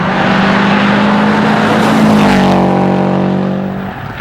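A 2002 Subaru WRX rally car on a forest stage of the 100 Acre Wood Rally, its engine roaring loud and close as it passes, pitch sliding down as it pulls away.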